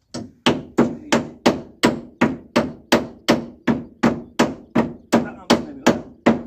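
A hammer drives nails into pine boards while decking is laid under a balcony. Sharp, loud blows land in a steady, even rhythm, about sixteen strikes in a row, each ringing briefly with a woody tone.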